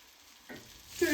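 Honey garlic chicken pieces frying in a pan give a quiet sizzle that swells partway through and grows louder toward the end, with light stirring or shifting.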